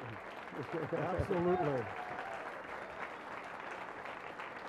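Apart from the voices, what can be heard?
audience applause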